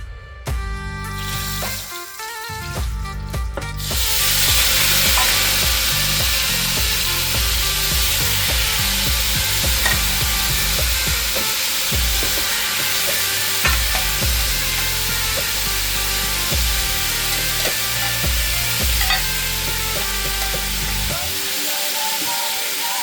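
Onions frying in a pan for Caucasian shashlik produce a loud, dense, continuous sizzle that swells after a few seconds of clatter and then holds steady, close and without talk.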